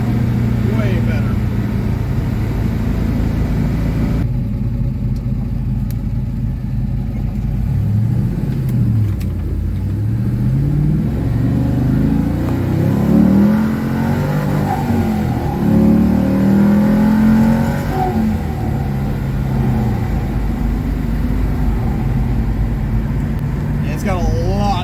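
Inside a 1970 Buick running a GM LS1 V8 with a BBK SSI intake, the engine roars loudly as it revs up and drops back repeatedly, hitting the fuel cutoff near 6,000 RPM, while people talk over it.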